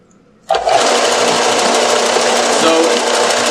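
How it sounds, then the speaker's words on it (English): A belt sander switches on abruptly after a short quiet start, then runs at a loud, steady, high-pitched whirring drone that stays even to the end. "first thing you do is you plug in the sander. Then you want to get gloves so you don't accidentally hurt your hand. Then you want to turn it on."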